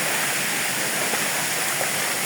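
Kabuayahan Falls roars in a constant, loud broadband rush of falling water over rocks, close and unbroken, with no voices.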